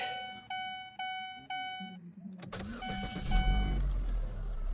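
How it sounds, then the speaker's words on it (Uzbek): A car engine cranks and starts after a repair to its programming, with dashboard warning beeps before it and then a steady idle and further chimes, close up with no talking. "Mashina o't oldi."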